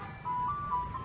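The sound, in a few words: ice cream truck playing its tune outside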